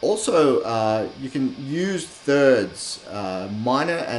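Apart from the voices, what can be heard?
No everyday noises stand out.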